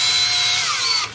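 A power drill bores into metal at slow speed, a loud steady whirring grind held close for about a second before it cuts off, with no talking.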